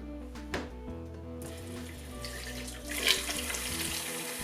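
Water pours and splashes onto houseplants with fish tank water, a continuous trickling stream that grows a little louder partway through, close by with no talking.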